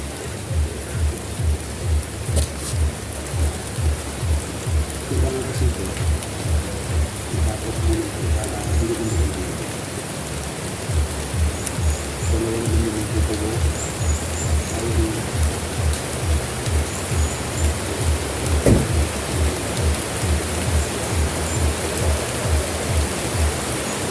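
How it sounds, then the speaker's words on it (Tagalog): Steady rain pours down around a house while roofing work is unfinished, a dense broadband hiss that swells louder and heavier over time, with a faint low rhythmic pulse underneath and no talking. "Ayan po, lumalakas yung ulan."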